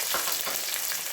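Onion fries in a hot pan with a dense, steady sizzle and crackle, close and continuous.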